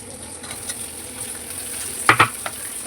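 Tomatoes go into a hot pan for fish curry, setting off a steady frying sizzle with a couple of louder stirring scrapes near the end.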